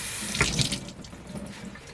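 Water from a sink tap runs to wet a sponge while a Cricut cutting mat is being cleaned, a close splashing stream that surges early and then keeps flowing more softly, with no talking.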